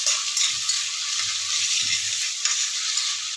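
Onion and vegetables for a vegetable paneer pulao fry in hot oil, giving a steady, close, crackling sizzle with light stirring knocks throughout and no talk.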